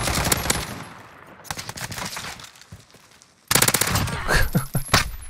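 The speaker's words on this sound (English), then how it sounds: "Whoa! Wait, was that an enemy shooting at me the entire time and I thought that was a teammate?" Enemy automatic gunfire in a Call of Duty match, rapid rattling bursts that come close and loud, fade to a quieter stretch, then return in a dense volley.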